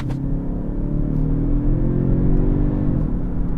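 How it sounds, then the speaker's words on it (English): Kia Stinger GT Line four-cylinder engine pulling hard in sport mode, held in manual second gear, a steady loud rising drone with climbing harmonics, close and continuous with no talk. "So if I turn it on to sport mode, which is one of the 5 drive modes you can select, put it into manual, drop it down to second."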